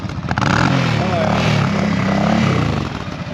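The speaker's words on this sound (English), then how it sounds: "Yeah, give it a rev." A Suzuki motorcycle engine is revved up into a loud, sustained roar close by, holding for a few seconds before easing off, with voices faintly underneath.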